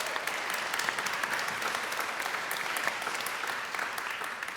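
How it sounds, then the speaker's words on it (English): A synagogue audience gives a sustained round of applause during a speech, dense and even clapping from many hands continuing steadily for several seconds without talk. "we can give those a round of applause."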